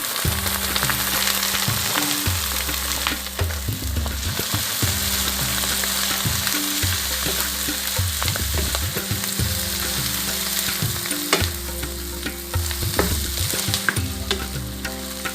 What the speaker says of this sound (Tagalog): Naging sizzling na. Sisig, sizzling. Haluin lang natin.